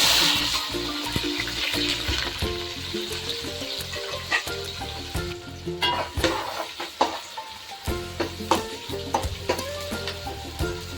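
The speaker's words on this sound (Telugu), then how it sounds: "ఇప్పుడు ఉల్లిపాయలు వేద్దాం, మంచిగా తరుక్కున్న ఉల్లిపాయలు." Sliced onions frying in hot oil in a pan, a loud continuous sizzle with rhythmic stirring scrapes and clatters, close up and with no talking.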